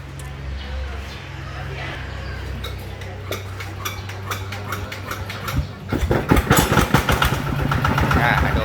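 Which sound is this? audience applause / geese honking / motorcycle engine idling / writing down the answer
motorcycle engine idling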